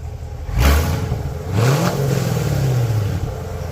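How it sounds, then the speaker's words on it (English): A 2014 Chevrolet Corvette Stingray C7 with Kooks headers and an opened factory dual-mode exhaust revs hard twice, each blip rising sharply then settling into a deep, throaty idle rumble, close and loud. "Hey, rev it up."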